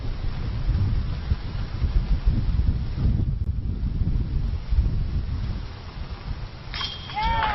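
A stiff headwind blows across an outdoor disc golf course, buffeting the microphone with a steady, loud low roar that lasts the whole stretch, with a faint chirp near the end.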